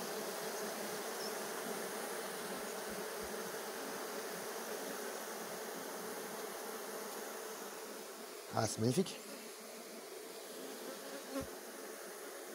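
Honeybees buzz steadily at a beehive in an apiary sheltered from the wind, a dense continuous hum filling the scene, with a few brief words spoken near the end.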